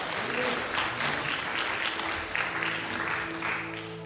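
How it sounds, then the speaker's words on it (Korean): A congregation at an Easter Sunday worship service applauds in a full, sustained round of clapping, with faint background music or tones held steady underneath. "다시 한번 주님께 영광의 박수를 드리겠습니다."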